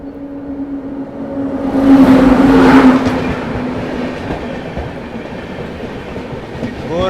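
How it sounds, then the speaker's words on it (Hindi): Gorakhdham Superfast Express passenger train running from Bathinda toward Gorakhpur approaches with a swelling rumble and a steady horn-like tone, peaking loud midway, then rolling on with a lighter clatter. "यहाँ सामने से आ रही है बठिंडा से चलकर गोरखपुर की ओर जाने वाली गोरखधाम सुपरफास्ट एक्सप्रेस"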